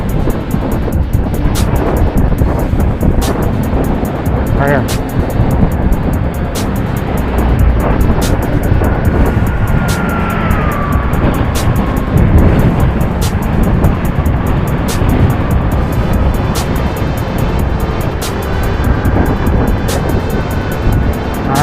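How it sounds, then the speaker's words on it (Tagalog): Cars rev their engines climbing a steep road in Antipolo, a loud, sustained roar with steady mechanical ticking throughout and one brief word spoken partway through. "Umarurot yung mga kotse"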